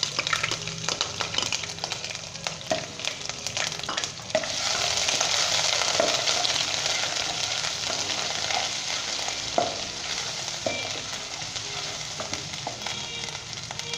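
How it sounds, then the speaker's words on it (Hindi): Ginger garlic paste sizzles and fries in hot oil for a Lahori aloo beef keema, a steady loud crackle that rises partway through, broken by occasional stirring scrapes, with no talking. "उसी ऑयल के अंदर अदरक लहसुन का जो हमने कूट के रखा है पेस्ट वो डालेंगे"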